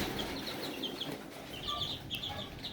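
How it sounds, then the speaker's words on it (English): Incubator chicks, four brown reds and one Irish pile, peep and chirp in a small box, with repeated high cheeps close by over a steady background hiss. "These are my incubator chicks."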